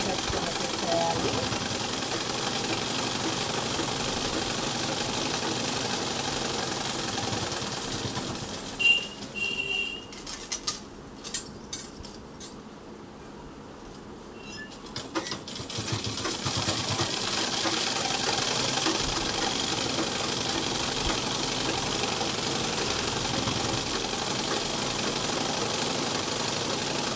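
A sewing machine runs in long steady stitching bursts on cloth, with a brief pause of scattered clicks and handling in the middle before the motor hums back on, while someone speaks Telugu over it.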